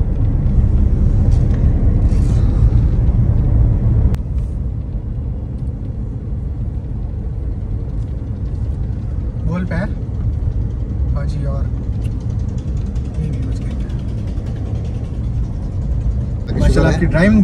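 A car drives along village roads, a steady low engine and road rumble continuing throughout, with people talking intermittently over it.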